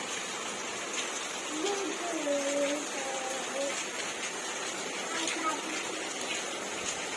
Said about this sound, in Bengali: বৃষ্টি দেখছে দেখো ওর খুব ভালো লাগছে বৃষ্টিটা দেখে